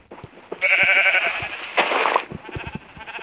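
Sheep in a video game bleat in a clear, drawn-out call near the start, then a second, brighter bleat follows, with short clicks and thumps scattered around them.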